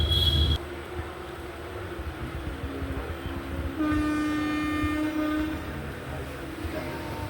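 A passenger train arriving at Thakazhi railway station, a small two-platform stop, with a steady sustained horn tone partway through over a low rolling rumble and a brief sharp burst at the start.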